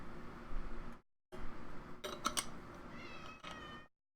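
A cat meows close by in a few drawn-out, wavering calls separated by short pauses, fairly loud and heard alone without any talk.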